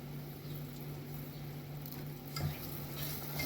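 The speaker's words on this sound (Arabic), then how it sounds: "افضل اقلب كده" Pasta is stirred in a pan with a spoonful of ghee or oil for a béchamel and chicken pasta dish: soft, continuous sizzling under gentle scraping, close by, with a brief louder scrape near the end and no speech.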